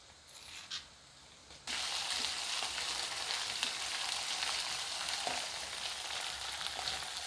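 Ground cumin goes into frying onions in a pan; after a quiet start a loud, dense sizzle jumps in and carries on steadily with faint stirring clicks and no talk.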